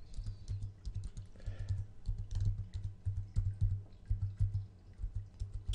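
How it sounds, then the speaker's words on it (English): Many computer keyboard keys pressed in quick bursts of irregular clicks and clacks while playing the game Toilet Simulator, close and fairly loud, with no talk over them. "Press every button on the keyboard."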